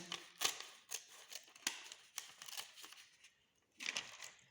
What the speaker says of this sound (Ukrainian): Взяли ножиці